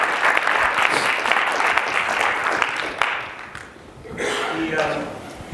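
An audience at a talk on driving traffic with SEO in Nashville applauds, a broad steady wash of many hands for several seconds that fades out as voices rise.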